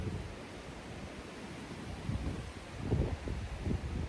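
Wind gusting outdoors at a cemetery where flowers have been laid, a steady broadband rush with a few stronger buffets toward the end, no voices.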